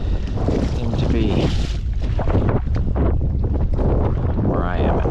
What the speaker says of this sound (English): Wind is not stopped